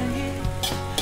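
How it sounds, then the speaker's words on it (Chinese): Diced chicken stir-fried with garlic in a little oil in a pan gives a close, steady sizzle with short scraping stirs of the utensil. "少油爆香大蒜之后，加材料加进去，开始爆炒"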